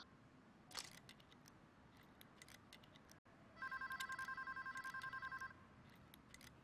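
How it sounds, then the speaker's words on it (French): An in-game telephone rings during a Payday 2 heist, a rapid pulsing electronic trill lasting about two seconds, clear above quiet ambient game noise with a few sharp clicks beforehand. "on peut entendre donc le téléphone qui sonne"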